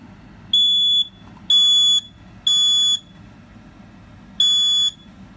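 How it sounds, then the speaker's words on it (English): Smoke detector alarm during a home alarm system test: four loud, shrill electronic beeps, each about half a second long, in an uneven pattern with a longer gap before the last one, alone over faint background hum. "Here's the smoke detector."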